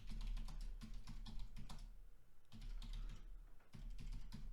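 Typing on a computer keyboard during a podcast recording, a close rapid clatter of keystrokes in bursts separated by short pauses, with a low hum underneath and no talk.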